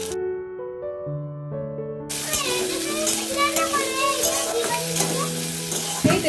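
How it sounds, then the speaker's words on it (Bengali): Nigella seeds and extra onion hit hot oil in a home kitchen with a sudden loud, continuous sizzle and crackle, following a few seconds of a sustained melodic tone, with faint voices in the background. "কালো জিরে ফোড়ন দিলাম, আর এখানে যেটা একটা অ্যাড করেছি এক্সট্রা পেঁয়াজ,"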